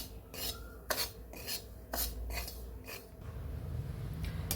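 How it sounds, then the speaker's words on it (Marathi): Semolina (rava) being roasted in a pan for ragi ladoos, with a spoon scraping and stirring in quiet repeated rasping strokes over a low background hum. "आता मी लगेच रवा भाजून घेते"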